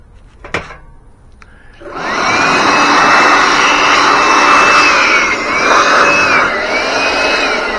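Air blower clearing sawdust from pre-drilled holes in a wooden planter, a couple of faint knocks and then a loud, steady whooshing roar with a whining tone that wavers for several seconds.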